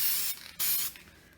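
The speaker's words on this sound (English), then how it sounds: "And just spray it all over it." Aerosol spray paint hisses onto a Christmas ornament as a base coat in two short, close bursts with a brief pause between them, and no talking.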